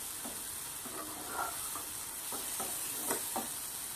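Soft frying sizzle of curd and spices in a pan for paneer masala, with quiet intermittent stirring scrapes over a steady hiss, fairly faint and with no talking.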